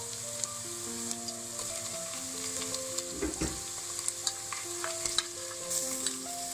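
Garlic ginger paste fries in a pan after onions, a soft, steady sizzle with stirring clicks and scrapes, fairly quiet, while gentle background music plays.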